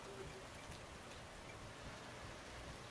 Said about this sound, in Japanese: しとしとと雨が降り続いているので